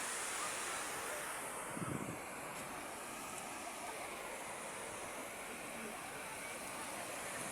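Strong wind buffets the microphone by the sea at a bay, a loud steady broadband rush mixed with surf, continuous throughout.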